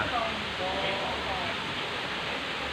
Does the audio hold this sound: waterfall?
yes